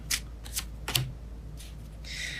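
Tarot cards are shuffled by hand in a few quiet, crisp riffling bursts with short pauses between them, faint and close against a low steady background hum.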